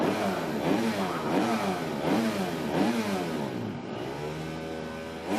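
A motocross bike at an MX2 qualifying session in Germany revs up repeatedly in loud, rising and falling bursts, then settles into a steadier running note, close and alone with no talk.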